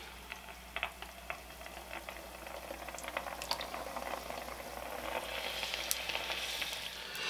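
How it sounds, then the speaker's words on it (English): Crab rangoon wontons fry in 350-degree oil, bubbling and crackling close by with scattered pops, and the sizzle builds louder toward the end. "we're going to fry these the same way we did our other wontons in oil that's 350 degrees"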